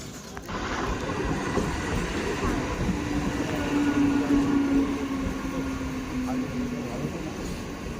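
A passenger train pulls into a crowded station on a foggy morning, a steady close rumble with a faint tonal whine running through it and a busy murmur of people underneath.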